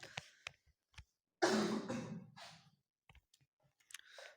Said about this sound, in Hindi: यार खांसी आने लगी ज़्यादा बोलने में।